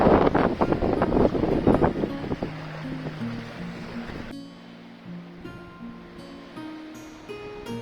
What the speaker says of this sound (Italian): un lago senza emissari, per colpa del vento, abbia delle onde così alte